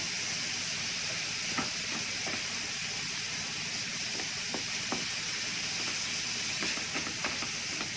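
Four cloves of chopped garlic sizzle steadily in a hot pan, a dense continuous hiss with faint crackles and an occasional scrape, no voices.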